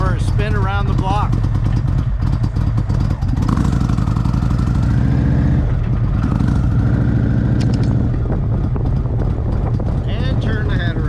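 Motorcycle engine running steadily and revving up, loud and close throughout, with a voice talking over it.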